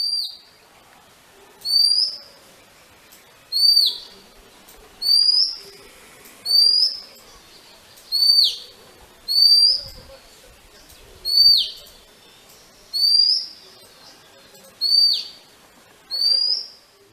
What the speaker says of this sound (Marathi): विठ्ठल रॉबिन या नावानं हा दयाळ पक्षी ओळखला जातो